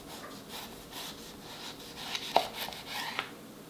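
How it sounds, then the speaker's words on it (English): A kitchen knife slices through a raw potato being cut into quarter-inch fries, giving a few soft crunchy chops and scrapes on a cutting board with one sharper cut in the middle, fairly faint and close. "And just cut through the potato like that."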